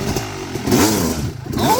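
A YC250 trail motorcycle revs hard close by, its engine rising and falling in pitch with rattly mechanical clatter over a short, loud burst.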